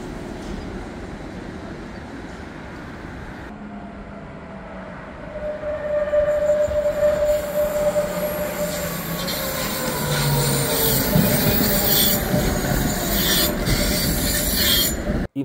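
Trams rolling along rails, with rising rumble and long squealing wheel tones as the cars pass nearby, growing louder midway and staying steady.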